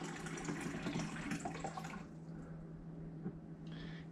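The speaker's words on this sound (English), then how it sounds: "Give it a little water." Filtered water is poured for a banana smoothie, giving a close, steady trickling splash for about two seconds. It then fades to a quiet background with a small sound at the end.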